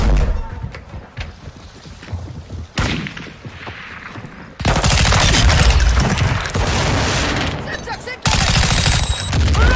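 Gunfire in Call of Duty: Modern Warfare II, starting as scattered shots behind radio-style voices and then swelling into loud, sustained automatic fire and booming bursts that fill the second half.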